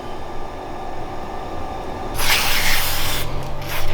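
Lubricant sprayed onto a metal tube for a go-kart build: a steady mechanical hum, then a loud, close hissing spray burst lasting about a second, followed by a shorter spurt near the end.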